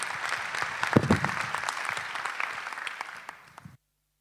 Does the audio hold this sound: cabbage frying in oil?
no